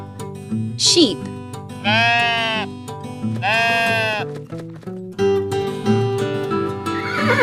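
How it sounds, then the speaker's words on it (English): A sheep bleats in two long, wavering cries, close and loud, with a shorter bleat near the start and a brief horse-like whinny near the end, over cheerful background music. "Sheep."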